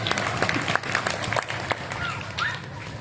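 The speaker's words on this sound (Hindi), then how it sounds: "तालियां बजाओ" Audience at a Hindi poetry gathering in Sojat City claps, scattered uneven handclaps over a noisy crowd murmur, moderately loud and lasting a few seconds.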